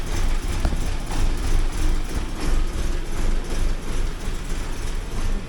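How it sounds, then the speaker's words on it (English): A 1979 Porsche 924 engine idles roughly and runs a bit rich while warming up in cold weather, a steady loud low throb with uneven pulsing and no voices. "So rough idle, you just have to wait for it to warm up."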